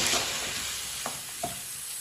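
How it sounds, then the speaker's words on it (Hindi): Chopped okra stirred in a pan makes a soft sizzle with a few quick scraping strokes of a spoon, close and steady, with no talking. "इसे अच्छी तरह मिक्स कर लेंगे।"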